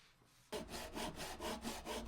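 A piece of wood is trimmed with a hand saw, giving close, loud rhythmic rasping strokes, about eight back-and-forth cuts after a quiet moment; no talking.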